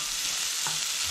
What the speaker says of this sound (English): there's still a little bit of the bacon grease in the pan, which is just gonna make these onions all the better.